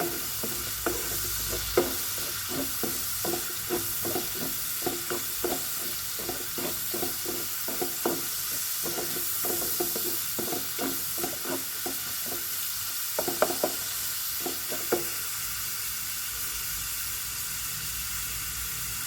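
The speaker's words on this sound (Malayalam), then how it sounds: "ഇത് എണ്ണയിൽ നന്നായി ഒന്ന് ഇളക്കി കൊടുക്കാം." Fish moly ingredients are stirred while they fry in hot oil in a pan. A steady sizzle runs underneath rhythmic scraping stir strokes, close and continuous, with no voices.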